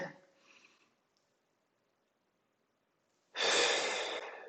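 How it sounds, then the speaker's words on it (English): A person doing a mobility exercise draws one deep, loud breath in, close to the mic, after a brief faint sound and a stretch of near silence. "So gonna breathe in"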